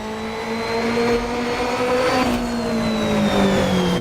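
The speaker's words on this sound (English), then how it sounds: "Engine noise is so loud" Alfa Romeo Giulia TZ2 race car engine on the historical Nordschleife in a racing video game, a loud steady drone with rising and falling harmonic tones as the revs shift, continuous and up close.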